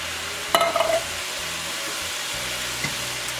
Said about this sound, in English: I'm gonna go ahead and add in my tomatoes